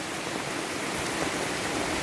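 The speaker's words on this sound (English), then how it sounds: "it's pouring with rain" Heavy tropical rain pours down steadily outside an open-air cafe in the Marquesas, a dense, even hiss with no distinct drops and no talking.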